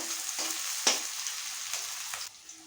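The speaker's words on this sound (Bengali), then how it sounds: "তেল গরম হয়ে গেছে পেঁয়াজ দিয়ে দিচ্ছি পেঁয়াজগুলো ভালো করে তেলের সঙ্গে নেড়ে নেবো" Onions fry and are stirred in hot fish oil for a Bengali eggplant dish. A bright crackling sizzle carries a few quick scraping stirs, then drops quieter near the end, with no talking.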